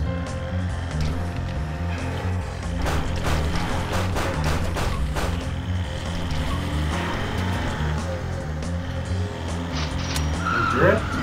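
A car in the video game Zombie Driver races along with a steady engine drone and repeated tire skids and squeals, loud and continuous, while people talk over it.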